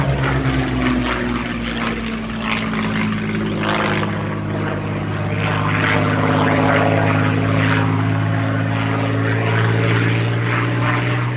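A Curtiss P-40F Warhawk propeller fighter drones steadily through a flypast at the Duxford Battle of Britain Airshow, its engine a loud, sustained, rumbling hum that swells slightly midway with no talking over it.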